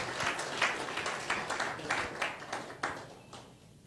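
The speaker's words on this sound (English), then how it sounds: "Big, big round of applause, ladies and gentlemen." A crowd applauds at a makeover event, a steady patter of clapping with rhythmic surges that swells and eases over a few seconds before thinning out toward the end.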